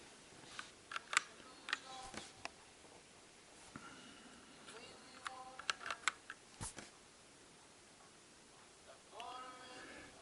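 Typing on a Havit mechanical keyboard with a numpad, heard as quiet, uneven bursts of crisp key clicks and clacks with short pauses between runs of keystrokes.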